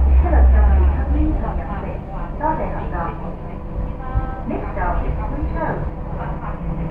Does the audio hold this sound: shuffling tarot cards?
no